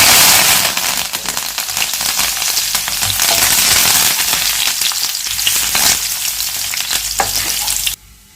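Loud, dense crackling sizzle of cumin and dried red chillies hitting hot oil for a mango dal tempering, steady and close for several seconds, then cutting off abruptly near the end.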